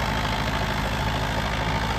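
A Sonalika Sikander tractor engine idles steadily at close range, a continuous low rumble with no pauses.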